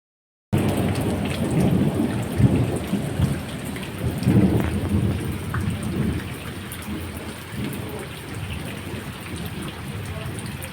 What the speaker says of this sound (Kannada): ಜೋರು ಮಳೆ ಬಂದು ನಿಂತಿತ್ತು.